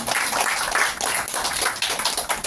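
Audience at a Korean party founding anniversary ceremony gives sustained applause, a dense, steady patter of many hands clapping at moderate volume.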